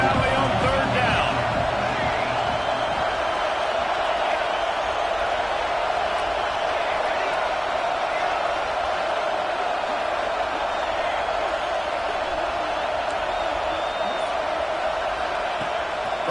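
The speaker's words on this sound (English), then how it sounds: "Here comes the noise from this big crowd in Happy Valley on 3rd down" A big football stadium crowd at Happy Valley roars steadily on third down during a Penn State vs Colorado game, a dense, sustained wash of noise throughout with a commentator talking over it.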